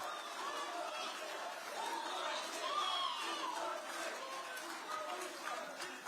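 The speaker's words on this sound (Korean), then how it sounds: "어마어마한 박수와 환호가 쏟아져 나오고 있습니다" A big rally crowd at the National Assembly roars with cheering and shouting after a speech on the May 18 spirit, a sustained, swelling mass of voices and calls with some chatter mixed in.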